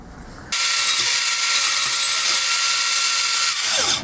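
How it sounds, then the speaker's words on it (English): A bandsaw nibbles away a weld on a broken metal frame, a loud steady high grinding buzz that starts abruptly and runs without a break. "precisely nibble this weld away with the bandsaw"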